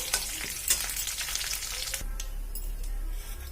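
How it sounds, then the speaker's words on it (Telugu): Urad dal, mustard seeds and curry leaves crackle and sizzle steadily in hot oil in a pan for a bitter gourd curry tempering, with a few sharp pops and light stirring scrapes, close and moderately loud. "కొంచెం మినపప్పు కరివేపాకు ఇవైతే కొంచెం వేగిన తర్వాత"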